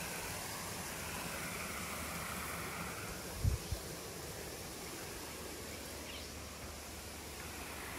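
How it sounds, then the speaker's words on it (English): Waterfall along the Bull Creek trail in Austin, Texas, a steady broadband rush of falling water heard from nearby, continuous and even, with a couple of brief low knocks partway through. "Show you the waterfall when I get there."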